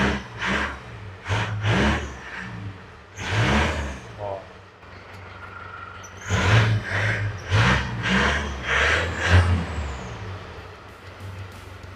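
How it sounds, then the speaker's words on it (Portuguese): A Land Rover Defender engine revved in several bursts while the exhaust puffs black smoke, each rise in revs loud and close inside the vehicle, with people talking between and over the revs. "vou dar umas aceleradas para ver que tipo de fumaça que vai sair"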